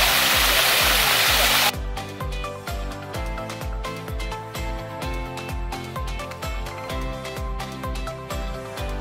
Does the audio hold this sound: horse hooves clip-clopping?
no